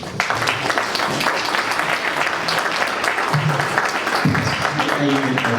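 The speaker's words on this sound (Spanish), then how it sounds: "por favor también un aplauso" An audience at a book presentation applauds to welcome the speakers, giving a sustained round of clapping with some talking and murmuring underneath and a brief tonal sound near the end.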